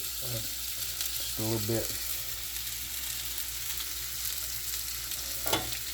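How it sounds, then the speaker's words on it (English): Butter melts in a pan over medium-low heat for New Orleans BBQ shrimp, giving a steady soft sizzle throughout, with a few brief clinks of a utensil and a short spoken phrase partway through. "Get that butter melted and get it going."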